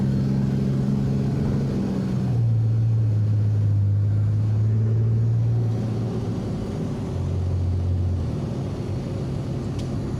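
A Cummins diesel dually pickup tow rig driving on a road, a loud low engine drone inside the cab that shifts pitch as it accelerates and eases off, without talk.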